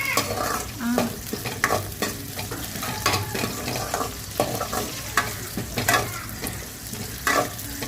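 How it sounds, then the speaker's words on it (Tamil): Dried red chillies, curry leaves, mustard seeds and gram roast in a pan for a coconut chilli powder, with a steady sizzle broken by repeated scraping strokes of a spoon, close and fairly loud, no voices. "அடுத்தது கருவேப்பிலை, கடுகு போட்டு அதுக்கப்புறமா நம்ம கடலையை போட்டு நல்லா வறுத்து எடுத்துக்கலாம்"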